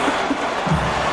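A stadium crowd at a 1992 Freedom Bowl college football game roars in a steady, dense wall of cheering and screaming, with no clear individual voices standing out.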